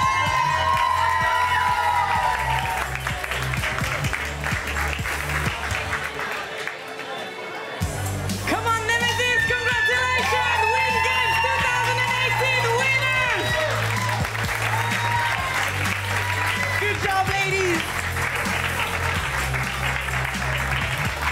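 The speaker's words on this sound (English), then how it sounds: "let's get the big cheers and the reaction from the crowd" Crowd cheering and applauding loudly and continuously at the Wind Games 2018 four-way speed final, with shouts and whoops rising over the steady clapping and a brief dip partway through.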